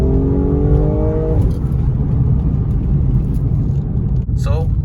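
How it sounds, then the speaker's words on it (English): An automatic car at a drag-style launch, its engine revving in rising bursts early on, then a loud steady roar as it pulls away, with a brief squeal near the end. "left foot on the brake, right foot on the gas, depress the gas a few times, let go of your brake, and then keep your foot on the gas"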